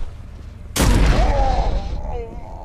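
In the Condemned 2 video game, a gun fires a single loud blast at an enemy in the Preston Hotel, followed by a booming, rumbling tail that slowly fades.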